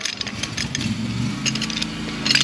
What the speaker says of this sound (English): It's always somebody starting a lawnmower whenever you need to show something important.